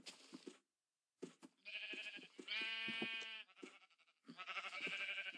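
Sheep in the video game Minecraft bleat in several drawn-out, wavering calls, one after another with short gaps, clear and close but quiet overall, no voices.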